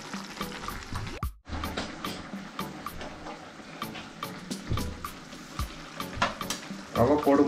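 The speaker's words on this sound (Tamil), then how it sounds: "ரவை போட்டுக்கலாம் இப்போ." Semolina is tipped into a hot pan of oil and stirred for upma, giving a steady sizzle with repeated scraping strokes of a spoon, one brief pause near the start and louder frying toward the end.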